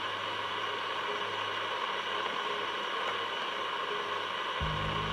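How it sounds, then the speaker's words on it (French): Steady broadband radio white-noise static from a recorder tuned to a radio frequency, with a low hum; continuous, fairly loud and even, with a low tone entering near the end. "avec la fréquence de la radio, le bruit blanc"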